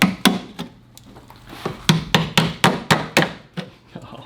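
A series of sharp metallic hammer blows on Tesla Cybertruck parts during disassembly, about a dozen in an uneven rhythm, close and loud with short ringing decays.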